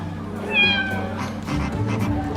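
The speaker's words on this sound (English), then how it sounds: "The business debit card that meows." A business debit card gives off an electronic cat meow, a single short, clear, rising-falling mew, close and loud, followed by faint room murmur.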